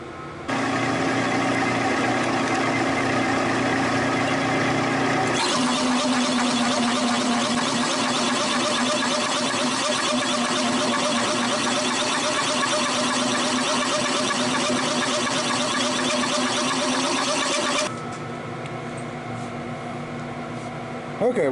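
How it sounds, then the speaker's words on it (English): A metal lathe boring a hole through a steel spring perch for a drag car's rear suspension, a steady loud machine drone with a tonal cutting whine that swells in the middle section before easing back. "now we're going to chuck this up in the lathe and bore our hole through it"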